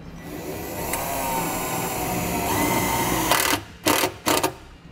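A power driver whines steadily as it drives a self-tapping screw into the body of a 2016 Subaru Forester, then stops, followed by several short sharp bursts as the screw is tightened.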